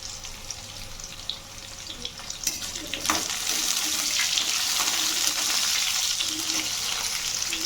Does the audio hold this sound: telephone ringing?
no